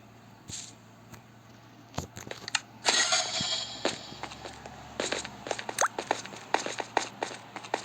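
Rapid sharp cracks and pops from game gunfire, irregular bursts of shots near and loud, with clattering impacts scattered between them.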